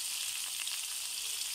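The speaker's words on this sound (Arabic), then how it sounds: "نقلبها بالطاوة حتى تتحمس عندنا الباجلة" Broad beans frying in a pan with black pepper and curry powder, a loud, dense, hissing sizzle that holds steady and close throughout, with no voices.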